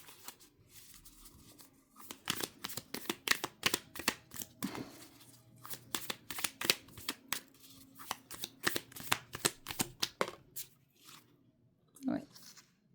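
Rapid, close riffle-and-snap shuffling of a tarot deck for a reading, bursts of crisp card flicks repeating for several seconds before stopping, with a soft voice speaking faintly underneath.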